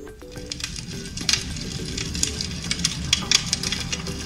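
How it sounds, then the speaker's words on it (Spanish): A recorded fireplace crackling plays from a Google Assistant smart speaker: a steady soft hiss with scattered sharp pops and snaps, moderately loud and without talk. "Este es el sonido de una chimenea."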